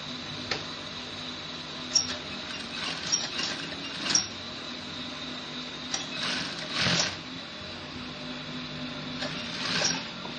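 Sewing machine top stitching a kids' senator top with bishop collar, a steady mechanical whir with small clicks and knocks throughout, close and fairly quiet.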